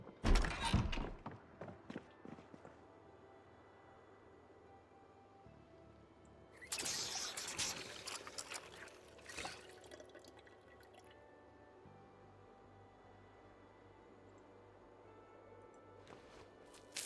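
Water being refilled in Project Zomboid: a burst of splashing and dripping at the start, then a longer run of pouring water with clunks midway, fairly quiet against a soft in-game background.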